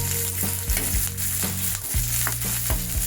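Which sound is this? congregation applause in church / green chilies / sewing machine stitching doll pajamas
green chilies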